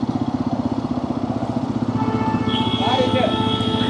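A motorcycle engine runs steadily with a pulsing mid-pitched throb during a ride to Tiruvannamalai, heard close, with a rider talking over it.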